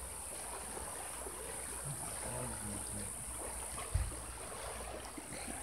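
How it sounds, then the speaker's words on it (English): A river flowing at night in Mesa, Arizona, a faint steady wash of moving water with a soft thump partway through, no voices. "It's a river."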